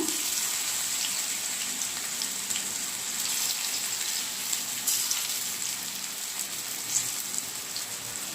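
Raw banana slices sizzle in hot oil with mustard seeds in a pan, a steady dense crackle and hiss throughout with occasional louder pops, close and alone.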